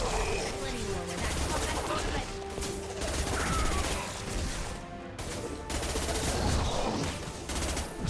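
Rapid, dense gunfire from the video game Mass Effect 2, with sustained automatic bursts, crashes and clattering mechanisms, loud and continuous over a constant game backdrop.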